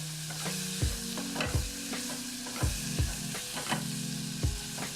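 Butter and chopped shallot sizzle in a hot pan, a steady broad hiss broken by regular scraping stirs about every half second to second, close and continuous with no talking.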